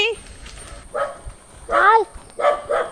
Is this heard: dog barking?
yes